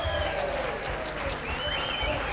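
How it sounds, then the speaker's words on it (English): Loud applause from a studio audience on a live comedy chat show, dense clapping and crowd noise filling the short moment, with no talk. "Give him a round of applause."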